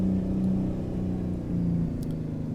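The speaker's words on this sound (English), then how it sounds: "I love the sounds of the 6V 91." Steady, close diesel rumble from a Peterbilt 351 fitted with a Detroit 6V-92 engine in American Truck Simulator, holding an even idle-like drone with a gritty low buzz and no voices.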